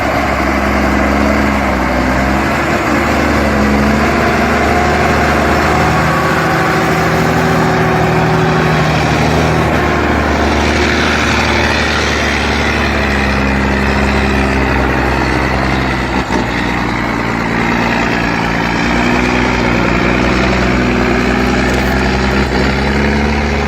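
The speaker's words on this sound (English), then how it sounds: "A tractor trailer was starting up, the engine roaring, smoke billowing from the exhaust, the wheels rolling hard up a steep hill." A heavy logging truck engine runs loud and sustained in close range, a deep, continuous diesel drone with steady low tones throughout, no voices present.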